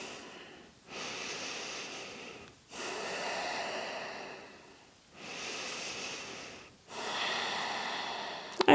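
Deep yoga breathing while holding a stretch with clasped hands: four long, steady breaths through the nose, each a smooth airy rush lasting about two seconds, close and alone with brief pauses between.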